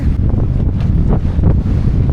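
Salty sea wind blowing across an island, a loud steady gusting roar buffeting the microphone with no voices.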